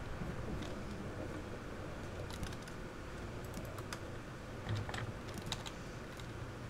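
Clattering keystrokes on a malfunctioning computer keyboard, a steady stream of quick, light clicks with brief flurries, close and fairly quiet over a soft hum.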